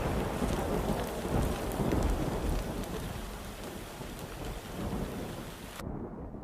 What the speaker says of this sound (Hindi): तभी अचानक आसमान में बिजली चमकती है और तेज बारिश शुरू हो जाती है।